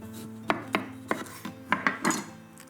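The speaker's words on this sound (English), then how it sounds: "Just give these a roll on your bench before you cut them." Limes are rolled on a bench and then cut, heard as a close run of about eight sharp knocks and taps on a hard surface in an uneven rhythm, with no voices.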